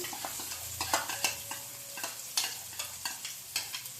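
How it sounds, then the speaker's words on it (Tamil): Pirandai, the adamant creeper, goes into a pan of spluttering mustard seeds and fries with a soft sizzle, broken by repeated sharp pops and scraping stirs, close and fairly quiet. "பிரண்டையை எடுத்து அந்த கடுகு பொரிஞ்சோன்னு பிரண்டையை எடுத்து அதில் போட்டணும்"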